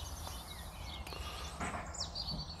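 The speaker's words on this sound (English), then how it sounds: "Birds are singing here this morning." Birds sing faintly on a quiet morning outdoors near a fishing lake, with a few scattered chirps and short trills over a low background hum and no talking.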